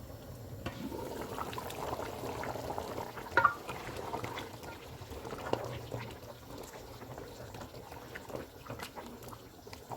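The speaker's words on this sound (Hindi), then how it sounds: "सालन को पकते हुए 10 मिनट गुजर गए हैं।" Beef trotter curry simmering in a covered pot, a low, soft bubbling and burbling with a few small knocks, fairly quiet and continuous, no speech.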